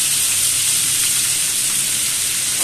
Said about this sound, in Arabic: احنا لازم نحط قطع ثانيه في الزيت عشان ما يتحرقش معانا